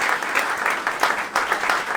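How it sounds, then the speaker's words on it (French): Steady applause from a crowd at the Kelt Ocean Race 2022 paddle racing event, dense clapping that holds throughout without pause. "Un petit applaudissement s'il vous plaît."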